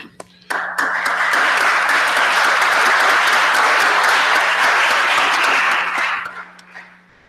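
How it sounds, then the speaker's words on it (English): Sustained applause fills a township committee meeting room after a vote, starting abruptly and holding loud and steady for several seconds before tapering off, with no talk over it. "I think there might be more applause here than the State of the Union"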